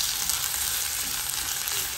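Washed rice sautéing in a hot pan with oil, a steady dense sizzle close by, continuous and even for the full two seconds with no talking.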